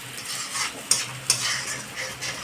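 Ground masala paste for a spicy paneer curry fries in oil in a pan, sizzling steadily up close while a spoon stirs with a couple of sharp taps on the pan.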